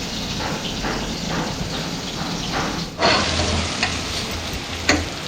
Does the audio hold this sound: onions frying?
yes